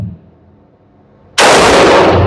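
A Geissele Super Duty AR15 5.56 rifle fires at an outdoor range. After a near-silent pause, one very loud, sharp shot bursts out and rings on briefly.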